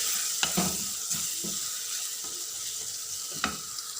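Chicken sizzles in a hot pan, a steady frying hiss with intermittent scraping stirs and light clicks of a utensil against the pan, close up and with no talking.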